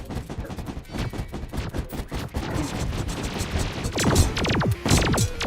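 Shotgun fire from Terraria loosing exploding crystal bullets, with dense, rapid crackling bursts that build into a loud run of sharp, shattering blasts toward the end.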